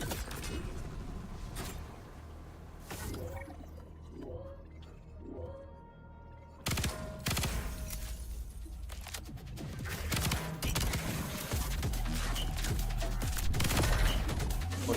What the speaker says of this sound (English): Me shooting the floor is wasting a hell of a lot of ammo.